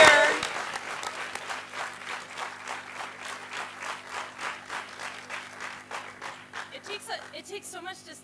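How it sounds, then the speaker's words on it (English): An audience at a conference plenary session breaks into applause that starts loud, settles into rhythmic clapping, and fades as a voice begins speaking near the end. "Let's give those guys a round of applause."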